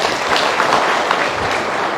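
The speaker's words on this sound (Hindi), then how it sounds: "एक बार ताली बजा सकते हैं लोगों के लिए?" Steady, loud applause from a seminar audience at a motivational speaking event in India, a dense wash of clapping that fills the whole moment with no talk over it.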